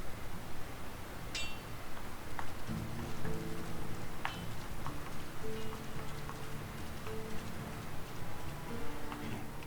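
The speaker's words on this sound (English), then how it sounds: "Who could live in a town where it's always raining?" Steady rain falls across a town in the Lord of the Rings: War in the North video game, a dense continuous patter with occasional ticking drips, joined partway through by low sustained musical tones.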